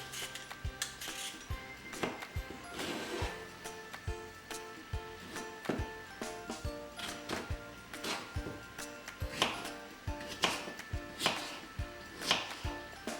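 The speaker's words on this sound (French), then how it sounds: "vous allez éplucher vos pommes de terre et les couper" Potatoes peeled and cut into large cubes on a board, a steady run of close knife taps and chops with occasional clinks of utensils and dishes, no talking.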